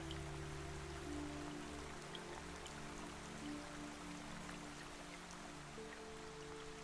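Steady rain falling on a hillside path, a dense, continuous hiss of drops on surfaces with no breaks and no voices, with a faint low hum running underneath.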